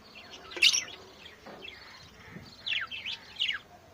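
Young Fischer's lovebirds chirping indoors at a home aviary, scattered high tweets in short bursts, soft and fairly near with quiet gaps between calls.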